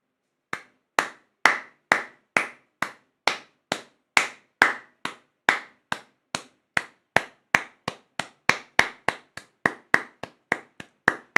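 Slow, evenly spaced sharp claps, about thirty in a row, each crisp and distinct with a short decay, close and fairly loud with silence between them and no talking.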